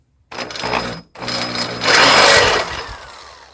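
A power drill with a dull bit grinds a hole, starting and stopping in two loud bursts. The second burst whines harder and then eases off as the bit pushes through.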